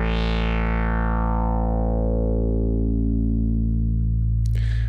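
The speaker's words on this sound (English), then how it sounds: "we can hear that really beautiful Moog sound" A Minimoog synthesizer holds a single sustained note while the resonant filter cutoff sweeps downward, the bright buzzy tone darkening into a deep round bass, loud and steady until a brief noisy click at the end.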